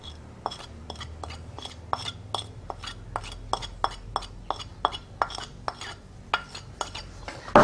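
A utensil clinks rhythmically against a bowl, steady repeated taps of stirring cassava flour, close and moderately loud.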